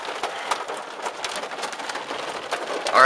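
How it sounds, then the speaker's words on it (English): Pea-size hail from a severe thunderstorm pours down in a dense, steady patter of small hard impacts, like heavy rain on surfaces, with nothing else over it. "pea-size hail."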